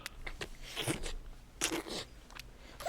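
Wet slurping and smacking mouth noises from an album skit, close and intimate, coming in irregular bursts with no talk over them.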